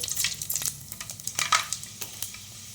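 Mustard seeds, dry red chillies, cumin and fenugreek seeds crackle and pop in hot oil, a fairly faint but steady patter of small crisp bursts over a soft sizzle, with no talking.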